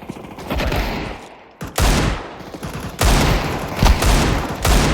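Desert Eagle pistol shots in the video game CS2, sounding as loud sharp bursts of gunfire in several clusters with brief pauses between, firing near and dense with no talk over it.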